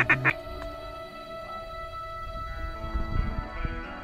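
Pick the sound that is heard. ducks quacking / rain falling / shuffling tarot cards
ducks quacking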